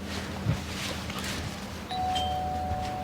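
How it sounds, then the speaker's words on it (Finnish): A rigged-up home doorbell rings once in a room, a clear sustained electronic tone starting partway through and holding steadily to the end over quiet background hum. "Kato, viritteli vähän ovikelloa, kokeile."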